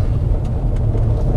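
A car driving along a gravel road, heard from inside as a loud, continuous low rumble with a rough rattling texture and no talking.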